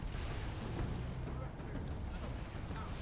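In the Halo 3 video game, an auto turret fires frag grenade projectiles, giving a dense, continuous rumble of booms and bursts played at a low level.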